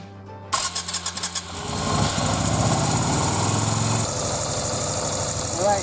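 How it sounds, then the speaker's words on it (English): A Yamaha Virago motorcycle engine, under carburetor repair for a fuel leak, cranks in a few quick bursts, then catches and settles into a steady, loud, throbbing idle close by. "So let's go ahead and turn the engine on."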